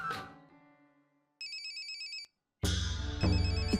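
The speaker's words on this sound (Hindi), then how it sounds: "इतनी रात गए किसका फोन हो सकता है," A telephone rings late at night in a home, playing an electronic ringtone. Its tuneful bursts repeat close and clear, each fading into a brief gap. No one speaks over it.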